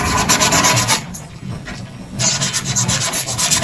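A pencil drawing of an eagle rubbed to blend graphite powder, a soft dry rasping scrub in repeated strokes, close and steady, pausing briefly midway before resuming.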